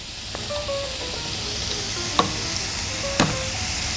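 Garlic and minced meat sizzle steadily in a pan while a healthy Italian spaghetti sauce is cooked, with a continuous close frying hiss and two sharp utensil clinks against the pan.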